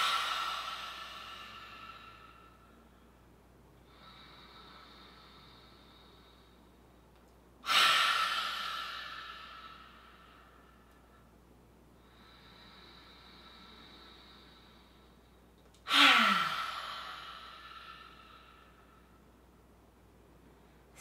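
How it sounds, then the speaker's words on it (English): Slow, deep breaths through an open mouth: long airy inhales followed by two sharp, forceful exhales, rising and fading in a steady rhythm, close and alone with no talk. "let us inhale deeply but exhale with an open mouth, helping us to ground even more"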